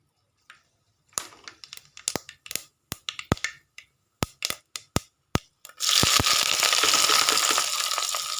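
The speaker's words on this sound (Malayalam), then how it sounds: "അതിനുശേഷം കടുക് ഇട്ട് പൊട്ടിക്കുക" Mustard seeds pop in hot oil in a pan for a tuna fish curry, with a scattered series of sharp, close cracks followed by a dense, continuous sizzle.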